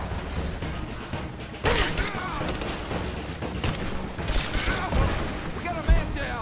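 Sustained gunfire in the video game Rise of the Tomb Raider, with dense rapid shots and sharp bursts over continuous battle noise while soldiers shout.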